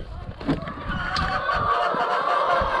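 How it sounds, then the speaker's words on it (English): Chickens cluck and murmur close by in short bursts, with some rustling and faint background noise. "Hello, chickens!"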